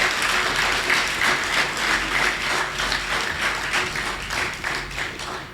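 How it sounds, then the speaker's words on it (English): An audience at the closing ceremony of the inaugural WorldSkills Barbados Juniors Competition gives sustained, dense applause. The clapping stays steady and loud throughout, with no speech. "I want the audience to give them a rousing round of applause."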